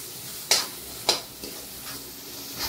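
Ground masala paste for veg kurma roasts in oil, giving a low crackling sizzle broken by a few distinct spoon scrapes against the pan at irregular intervals.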